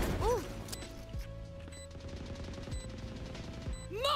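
Gunfire in a video game cracks out in scattered bursts of shots, with electronic whooshing effects at the start and end, fairly quiet overall.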